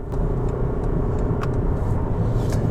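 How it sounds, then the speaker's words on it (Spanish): Low, steady engine rumble and road noise inside a Toyota Camry under hard acceleration, heard from the cabin as a muted, even drone with no voices. "Esto es todo el sonido que vas a escuchar como máximo en el Toyota Camry."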